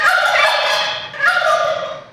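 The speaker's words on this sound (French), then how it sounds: "Ah, c'est un dindon?" A turkey gobbles loudly and close in two rippling, warbling bursts, one after the other, with no talk over them.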